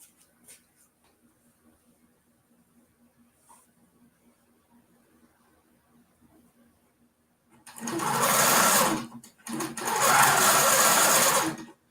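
A King Quilter II Elite longarm machine sews binding onto a quilt in two loud, fast whirring bursts near the end, after a stretch of quiet handling and light taps.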